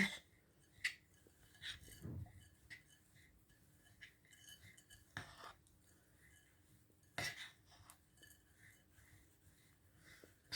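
A honey mixture is stirred in a bowl: a spoon scrapes and clinks against the sides in scattered, irregular taps and knocks, fairly faint and close, with no talking.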